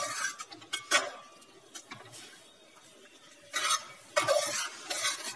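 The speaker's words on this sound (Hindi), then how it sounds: "अब इसको हम इस तरह से चलाते हुए इसे सुखाएंगे।" A spoon scrapes and stirs milk reducing in a pan for milk cake, with soft irregular scraping strokes close by and a faint sizzle between them.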